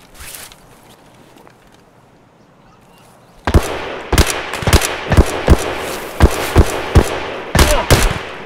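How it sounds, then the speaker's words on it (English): Rapid gunfire from Escape from Tarkov, a quiet stretch giving way to a loud, close volley of sharp shots at an irregular rhythm, roughly a dozen cracks in about five seconds. "There's somebody else shooting at me now"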